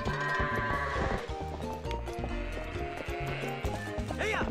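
Goats bleat among clopping hooves and busy game sounds in Zelda: Twilight Princess. The in-game animal calls repeat over several seconds amid a dense, layered soundtrack.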